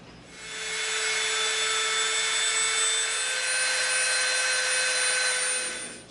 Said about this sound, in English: We're going to smooth these a little bit with the Dremel.